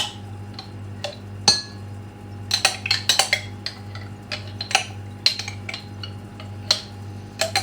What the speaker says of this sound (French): Donc, vous venez mettre vos 2 cuillères à soupe d'huile de coco non fondue.